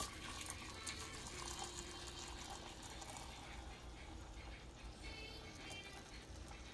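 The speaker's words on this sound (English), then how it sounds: "I'm gonna go ahead and pour this in a bowl and leave it to cool" Sugar syrup for sweetmeats being poured from a pot into a bowl, a steady liquid stream and splashing running throughout at moderate level, with no talking.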